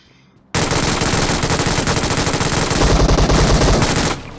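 Loud, sustained automatic gunfire in the battle-royale game BGMI, a dense unbroken burst of rapid shots lasting several seconds that cuts in abruptly after a quiet start.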